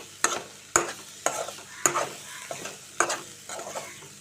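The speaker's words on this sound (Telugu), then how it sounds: "ఒక 2 నిమిషాలు ఫ్రై చేసుకొని" Amaranth leaves with coriander powder fry in a pan, stirred in a brisk rhythm of about seven spatula scrapes over a soft, continuous sizzle, heard up close with no voices.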